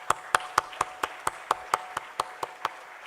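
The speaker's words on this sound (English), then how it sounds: "Let's give everyone a huge round of applause" Evenly spaced hand claps at a legal seminar and panel discussion of a law forum, about a dozen crisp beats in a steady rhythm, faint and a little distant, with no voices.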